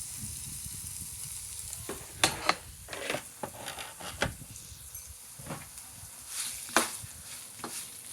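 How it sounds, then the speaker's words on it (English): Shrimp and broccoli sauté in a pan with a soft, steady sizzle, broken by irregular clicks and scrapes of a utensil stirring against the pan. "And now we're going to saute these for a couple minutes."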